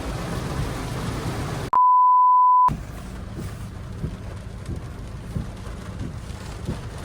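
Steady rain falls as a dense, even hiss with faint drops spattering, briefly interrupted by a loud electronic beep tone, then continuing at a lower level.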